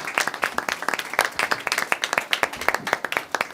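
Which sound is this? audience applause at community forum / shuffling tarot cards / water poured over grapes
audience applause at community forum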